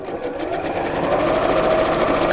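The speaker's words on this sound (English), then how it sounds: "sew these right sides together just down the short edge to make tubes" A sewing machine runs a continuous seam along the short edge of fabric pieces, stitching them right sides together into tubes. The motor hums steadily and close up, with a rapid regular needle rhythm that picks up speed and carries on without pause.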